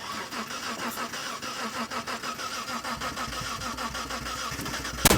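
A Mitsubishi Montero's starter cranks repeatedly while starting fluid is used, a rhythmic mechanical churning that stays close and steady, ending with a sharp pop as the engine catches.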